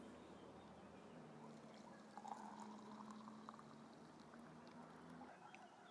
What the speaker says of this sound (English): We're now going to top up with water.